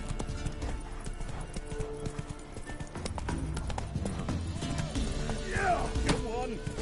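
The horse Roach gallops in The Witcher 3 with rapid, rhythmic hoof clip-clops, a brief whinny near the end, and a voice speaking over the game sound.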